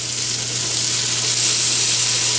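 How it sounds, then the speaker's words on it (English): Fire-roasted garlic sizzling in hot fat inside a can cooker, a steady, loud, even hiss with a low hum beneath it and no talking. "Now we're gonna add a little bit of this roasted garlic."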